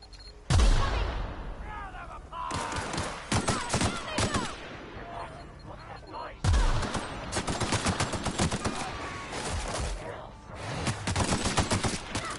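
Gunshots in the video game The Outer Worlds, a few sharp, heavy blasts followed by quick volleys of shots, in several bursts with reverberant tails.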